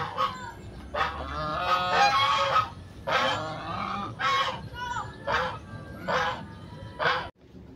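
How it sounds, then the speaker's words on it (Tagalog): Geese honk loudly and repeatedly in a string of harsh nasal calls, close by, with short pauses between bursts. "Ayun, may gansa."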